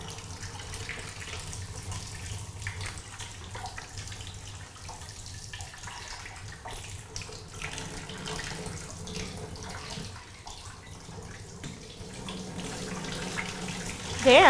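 Water gushes steadily from a tap into a sink in a kitchen, a continuous loud rushing stream that swells near the end.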